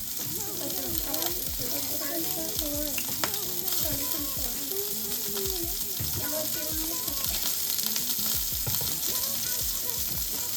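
A steak sears in a hot pan with a steady loud sizzle throughout, a person talking over it.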